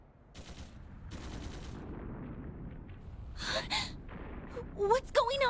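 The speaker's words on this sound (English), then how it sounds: "Shots from the next district!" Bursts of gunfire from a neighboring district in the video game Trails Through Daybreak II, a few rapid volleys around the middle amid tense background score, followed by gasps and exclaiming voices.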